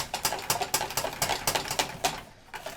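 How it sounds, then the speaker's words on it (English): Eggs being whisked into warm choux pastry dough in a bowl, a rapid, steady rhythmic clatter of the whisk, close and fairly loud, with no talking. "And whisk it as it's going, because otherwise it's going to cook our eggs and we don't want that."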